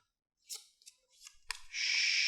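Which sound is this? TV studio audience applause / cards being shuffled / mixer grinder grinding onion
cards being shuffled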